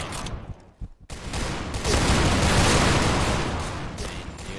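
Dense, sustained rapid gunfire fills the online shooter Piercing Blow after a short pause with a few isolated shots. Overlapping bursts keep a continuous, loud crackle.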